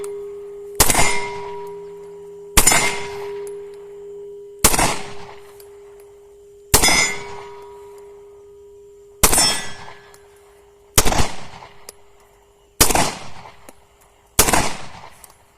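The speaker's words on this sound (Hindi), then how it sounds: "तो ये पाकिस्तानी पिस्टल था जो हमने फायर किया" Eight sharp, loud single shots from a Pakistani-made pistol fired at a test range, spaced about two seconds apart. Each crack is followed by a metallic ringing decay.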